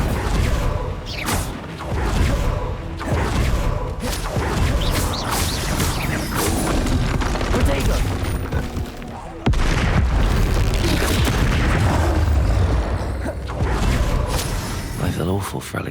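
Confringo blasting spells burst into booming explosions in the Hogwarts Legacy video game, heavy and continuous with rumbling debris, while a voice speaks over the action.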